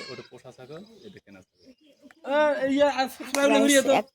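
Someone speaks briefly, then a pet goat in a village lets out two loud, wavering bleats close by.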